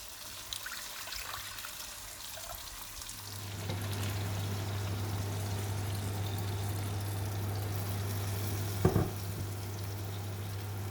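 Water is poured into a pot of Sri Lankan crab curry, a steady rushing pour joining a low simmering hiss, with a brief clatter near the end.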